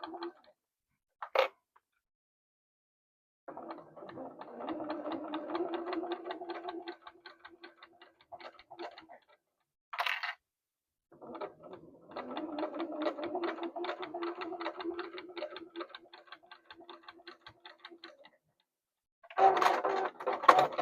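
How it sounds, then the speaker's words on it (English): A sewing machine stitching a quarter-inch seam through several layers of fabric for a boxy bag, with two long runs of fast, even needle chatter, quiet pauses between them and brief handling clicks, heard close. "put my presser foot down, and I'm just going to sew my 1/4 inch."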